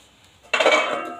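Two new steel woks (kadai) knocked and handled together, a sudden close metallic clatter and ringing that fades over about a second.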